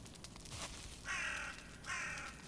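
Crows caw in Valheim, two harsh calls spaced under a second apart, fairly faint and distant against a quiet outdoor backdrop.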